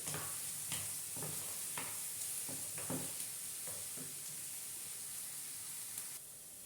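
Onions with a little salt sauté in a pan, with a steady sizzle and hiss broken by repeated stirring scrapes roughly every half second, close and fairly quiet.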